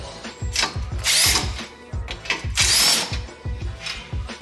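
Power tool spinning out 15mm bolts from a front brace under a BMW M4 Competition: loud, close bursts of whirring and rattling in two main surges, each with ratcheting clicks, and no talking.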